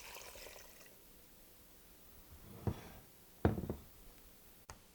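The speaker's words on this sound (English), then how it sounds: "Cover the petals with 2¼ cups of water." Water poured over rose petals in a pot, two short, close splashing pours in an otherwise quiet room, with a faint click at the end.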